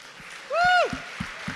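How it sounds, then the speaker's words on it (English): Audience applause at the Baltic Honeybadger 2019 Bitcoin conference in Riga as a speaker comes on, a moderate continuous clatter of clapping with one loud rising-and-falling whoop from the crowd near the middle. "Let's give him a huge round of applause."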